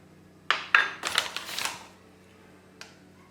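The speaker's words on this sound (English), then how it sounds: "now I'm just going to move this into the working surface so that I can knead it properly" Whole wheat chapati dough is shifted from a bowl onto a work surface: two sharp knocks, then a busier run of scraping, bumping handling noises that fades, and one last small tap, with no voices.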